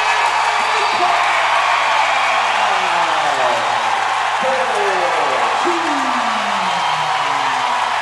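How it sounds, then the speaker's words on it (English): A crowd at a basketball game between SEU and South Coast Fire roars in sustained cheering and whooping for the full stretch, loud and dense, with a commentator talking over it. "and the crowd erupts"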